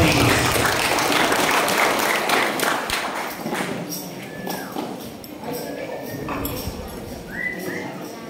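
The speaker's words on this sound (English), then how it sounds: "A round of applause, please." An audience applauds at a senior high school graduation ceremony, a dense burst of clapping that starts loud and slowly thins out and fades over several seconds.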